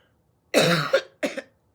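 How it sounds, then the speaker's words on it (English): Two harsh coughs close to the microphone, a longer rough one followed after a short pause by a briefer second cough. "I'm sorry about this coughing"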